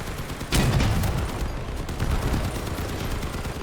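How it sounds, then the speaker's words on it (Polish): Heavy gunfire in the vehicle combat game Crossout opens with a loud blast, then settles into a dense, sustained roar of shots and explosions with no voices. "coś do nas strzela"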